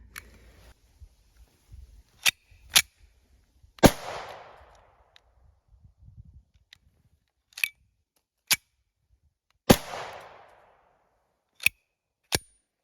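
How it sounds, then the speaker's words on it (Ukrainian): Sharp blank shots from an Escort Starter 9mm starter pistol crack out one at a time with gaps between, two louder reports trailing a short echo, plus occasional mechanical clicks. "Зараз постріляємо і перевіримо це"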